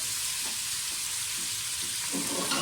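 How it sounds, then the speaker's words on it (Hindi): Tomatoes sauté in a pan for a tomato and onion chutney, giving a loud, steady sizzle and hiss with faint stirring scrapes, close up and without speech. "थोड़ा सा सौते करें, साथ ही टमाटर डाल दें।"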